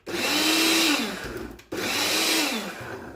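A kitchen chopper whirs loudly as it minces an onion, running in two bursts of about a second and a half each with a brief pause between, motor pitch dipping as the blades work through the pieces.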